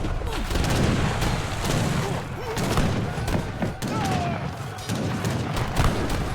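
Repeated booming artillery and gunfire volleys in the real-time strategy game Treaty, a dense continuous barrage of thuds and blasts with some faint voice underneath.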